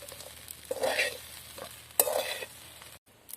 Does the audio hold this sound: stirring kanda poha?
yes